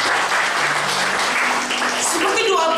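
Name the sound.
congregation applause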